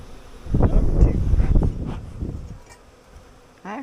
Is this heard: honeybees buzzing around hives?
yes